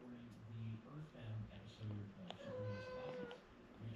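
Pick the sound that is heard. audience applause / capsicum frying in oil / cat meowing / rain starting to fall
cat meowing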